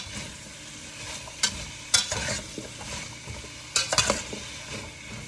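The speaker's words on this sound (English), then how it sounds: "So now that's there, I'm gonna stir around. Get the olive oil in it a little more. Break up some of that onion." Onion being stirred in olive oil in a pan, with a soft steady sizzle and a few sharp utensil scrapes and clinks against the pan.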